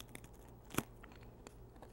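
A single crisp crunch as someone bites into a thin, crunchy cookie, close up in a quiet room with faint chewing sounds around it.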